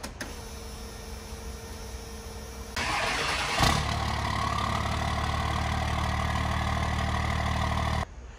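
A 1994–1998 Cummins diesel truck engine, just fitted with an AirDog fuel system, cranks on the starter. It catches after a few seconds and settles into a steady, loud idle that runs until the end.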